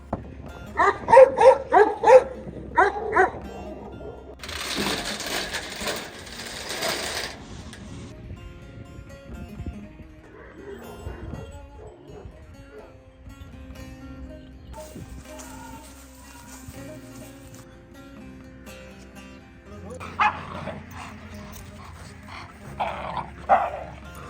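Kangal dogs at a dog farm in Sivas bark and growl in bursts, loud at the start and again near the end, with quieter mixed noise between.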